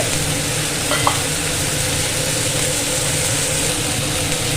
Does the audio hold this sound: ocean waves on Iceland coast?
no